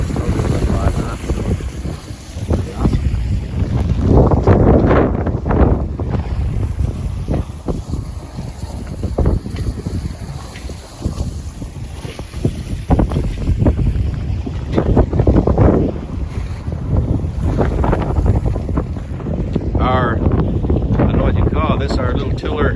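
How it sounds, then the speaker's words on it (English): A sailboat runs under sail through open water in a southwest wind at about five knots, with constant wind buffeting, water rushing past the hull and someone talking over it. "Got a nice wind out of the southwest."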